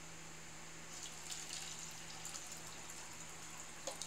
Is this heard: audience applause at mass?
no